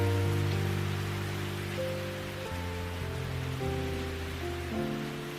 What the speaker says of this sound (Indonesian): suara hujan yang tersisa seperti detak napas bumi